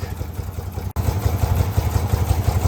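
An engine that sat unused for more than 20 years, revved to around 3,000–4,000 RPM, gives a steady, loud, close, rhythmic running drone with a brief dropout near one second.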